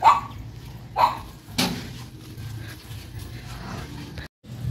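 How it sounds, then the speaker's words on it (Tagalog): Dogs near a house in Iligan City give a couple of short barks early on, separated by a second, then a sharp knock or clatter, with low background hum and rustle; no one speaks. "At meron mga aso."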